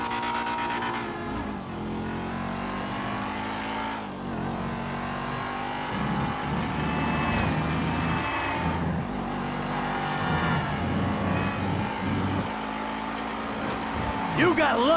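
An engine drones and revs as a car is driven in GTA 5, its pitch shifting with acceleration and gear changes over a sustained stretch, with a voice talking over it at times.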